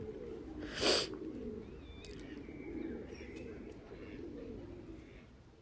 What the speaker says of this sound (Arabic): صوت العصافير كمان كتير حلو